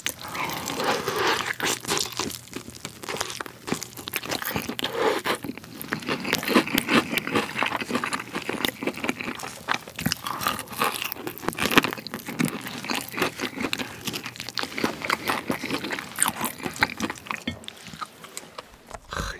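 Crispy Korean fried chicken legs, Jamaica-style whole drumsticks, are bitten and chewed right at the mouth, giving dense, continuous crunching and crackling with wet, sticky chewing throughout, no talk.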